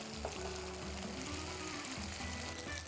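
Three tablespoons of ginger garlic paste frying in sesame oil, giving a steady soft sizzle throughout with a faint low hum beneath, quiet and without talk.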